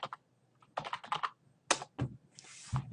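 Keys clatter on a computer keyboard in a few quick bursts of typing, with short pauses between them and a brief soft rush near the end, close and clear with no talking.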